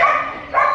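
A single short dog bark, loud and close, sounding like two quick yelps run together.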